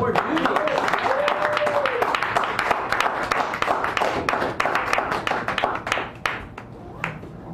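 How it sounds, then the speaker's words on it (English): An audience at a café open mic claps warmly for a performer, a dense sustained round of applause that gradually thins toward the end, while a voice speaks over the start. "let's give him a warm round of applause"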